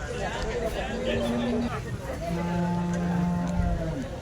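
Cattle low in long, loud calls at a busy rural cow market in Kondamadugu, two drawn-out moos one after the other over a steady hubbub of crowd chatter and voices.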